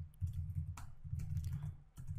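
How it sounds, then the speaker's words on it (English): Typing on a computer keyboard while entering data into Excel, a quick, close run of soft clicking keystrokes that pauses briefly before resuming, with no voices. "type some data"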